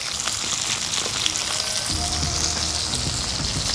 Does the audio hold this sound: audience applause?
no